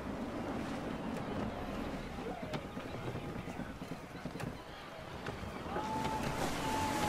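A sailing ship in Assassin's Creed 3 rides through steady gusty wind and rushing water, a constant broad roar that swells near the end, with voices speaking over it.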